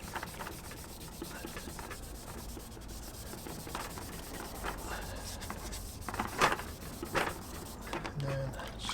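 Hand sanding of a fog light lens on a Land Cruiser 100 Series, a soft close rubbing scrape repeating in uneven strokes with a few sharper scuffs near the end, no talk.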